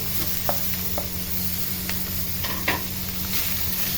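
Roasted chicken goes into a hot soup pot with a steady close sizzle and hiss. Scattered clinks and scrapes of stirring sound over the frying for several seconds, with no talk.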